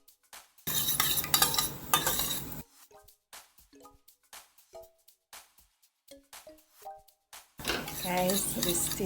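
Ketchup, barbecue sauce, sugar and vinegar are stirred together with a spoon in a pan, giving bursts of clinking and scraping between short sizzling stretches.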